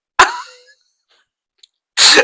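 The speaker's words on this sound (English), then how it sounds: "I'm about to sneeze." A person sneezes sharply and close by, followed after a quiet gap by a second loud burst like another sneeze.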